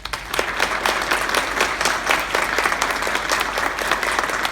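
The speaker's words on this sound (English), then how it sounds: "please join me in showing these family and friends our appreciation with a round of applause" Warm applause at an officer basic course graduation honoring family and friends, with many individual claps audible in a lively, steady patter across the room.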